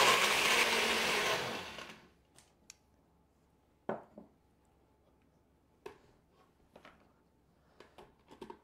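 A kitchen blender whirs loudly while mixing a sea buckthorn smoothie, running for about two seconds before cutting off, followed by scattered light knocks and clatter.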